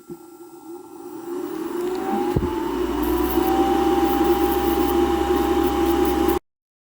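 A small electric nail sander set to 8000 rpm, removing gel from a nail, whines steadily at high speed after a quick spin-up, a constant buzzing drone with a faint rising tone.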